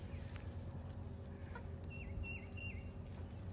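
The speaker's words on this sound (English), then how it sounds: "Get the chickies a couple too." Backyard hens cluck and call softly a few times at a moderate distance over a low steady background hum, with no talking.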